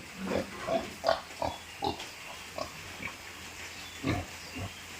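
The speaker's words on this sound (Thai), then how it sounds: "โอ้หมูป่าโอ้หมูป่าด้วยครับพี่น้อง หมูป่าผสมดูหรอก" A wild boar crossbreed pig grunts repeatedly in short, rhythmic snorts at moderate distance, with a steady outdoor hiss in the background.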